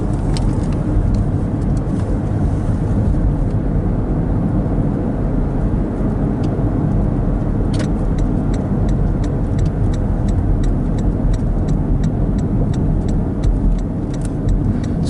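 A car drives at night through Grandon Lake Estates in Interlachen, Florida, with a loud, steady low road and engine rumble filling the interior throughout and faint regular ticking from inside the cabin.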